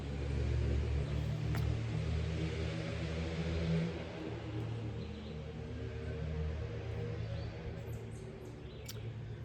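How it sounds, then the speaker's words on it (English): A loud car engine rumbles steadily nearby with a low droning roar that swells slightly, with faint bird calls in the background. "People in their very loud cars."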